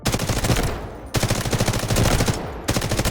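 Rapid automatic fire from an M4A1 assault rifle in the shooter game Delta Force, two long bursts of loud, closely spaced shots separated by a brief pause, with no talking.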